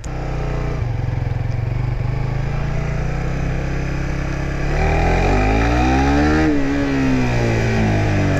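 A sport motorcycle engine runs steadily while being ridden, a loud, close drone that rises in pitch as the rider accelerates, then sweeps down and back up through the gears.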